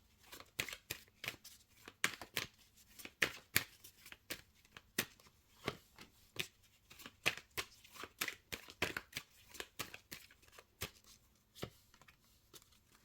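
Tarot cards shuffled by hand in a quiet room, a long run of crisp, rapid riffling snaps and flicks in irregular bursts, close and alone with no voices.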